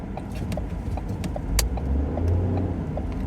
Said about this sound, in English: I'm trying to negotiate some pretty tight traffic here